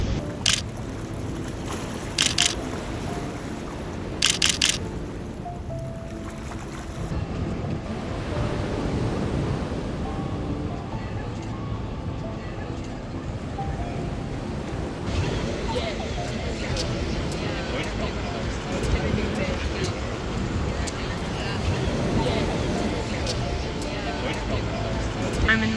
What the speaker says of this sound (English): I'm in Bondi Beach now, as you can probably tell